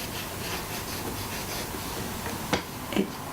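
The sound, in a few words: finger rubbing material onto an altered book page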